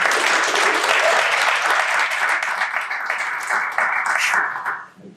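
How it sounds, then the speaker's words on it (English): Audience applause fills a room at an evening founders' talk on investing in Nebraska, steady dense clapping that holds for several seconds and then tapers off at the end. "let's first give Manny a round of applause and thank him for being here."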